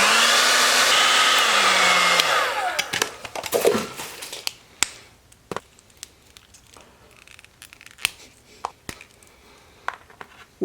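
A hair dryer blows steadily and loudly on plastic action figure parts, then switches off and winds down, followed by scattered faint clicks and taps of handling the plastic pieces.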